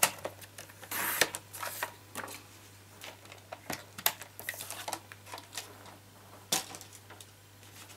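Card stock cut on a paper trimmer makes a string of sharp clicks, taps and brief sliding scrapes at an uneven pace, close by over a faint steady hum, with no voices.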